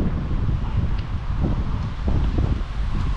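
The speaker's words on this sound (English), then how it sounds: "It's gonna be a little breezy for a few minutes." Breezy wind on the Occoquan River buffets the microphone in steady low rumbling gusts, with no voices.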